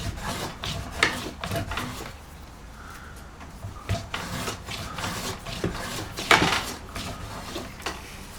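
A spokeshave shaves hickory wood to thin a section for a bark seat, giving a series of rasping, scraping strokes at close range, with a few sharper peaks among the steady rubbing.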